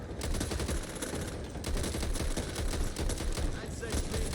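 Rapid gunfire in the zombie shooter Back 4 Blood, dense bursts of automatic shots rattling continuously and loudly throughout, with players' voices mixed in underneath.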